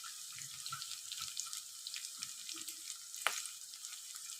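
Sliced onions and green chillies fry in hot oil in a home kitchen pan, a soft continuous sizzle with faint stirring clinks and one sharper scrape, close and without talk.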